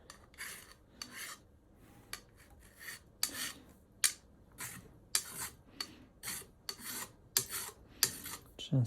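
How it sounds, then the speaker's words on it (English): A metal spokeshave, a Dictum stainless steel model, easing a wooden edge, giving repeated short rasping strokes in an uneven rhythm, close and fairly quiet, with no talking. "Just easing the edge there a bit."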